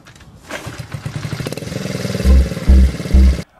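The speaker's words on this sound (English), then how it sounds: "once I had the bike all back together, I couldn't wait to fire up the engine and ride it around the block a few times" A restored Honda Trail 70 CT70 motorcycle is kicked over and its small engine sputters toward life, ending in three loud, heavy thumps close by. No voices are heard.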